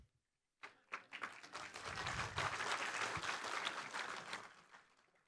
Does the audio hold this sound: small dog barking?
no